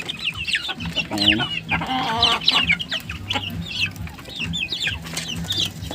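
One-month-old chicks peep constantly among clucking hens at close range on a small breeding farm, with a brief spoken word and some voices mixed in.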